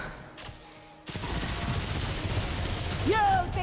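An SMG in the video game Remnant 2 rattles off a loud, sustained automatic burst after a brief quiet lead-in, with a rising whine near the end.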